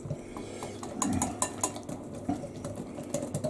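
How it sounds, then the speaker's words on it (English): Dishes, pots, pans and cutlery clatter and clink in a home kitchen during washing up, with sharp irregular knocks over a soft background of running water. "Do the washing up there."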